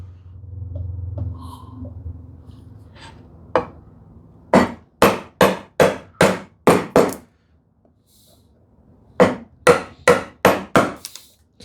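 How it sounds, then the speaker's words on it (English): Hand chisel driven by a mallet to clean out a groove in wood while building a TV unit. Two close, loud runs of about six evenly spaced, hollow knocks each are separated by a brief pause. "I'm not trying to chisel it right up to the wall and break it."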